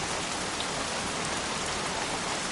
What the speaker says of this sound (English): won't this rain ever let up?